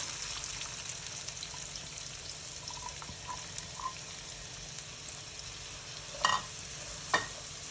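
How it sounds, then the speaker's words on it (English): Chopped carrots sizzling in a pan as the base of a ragu, a quiet continuous fry with light stirring and two sharper clunks of a spoon or pan near the end. "So that's in go the carrots."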